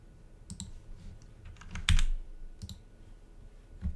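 Computer keyboard keys typed and clicked in a few short, separate bursts at close range, with one sharper, louder keystroke near the middle, against a quiet room background.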